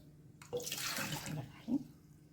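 Half a cup of warm water is poured into a bowl while making kahk dough, a close splashing pour that starts after a brief pause and ends with a small gurgle.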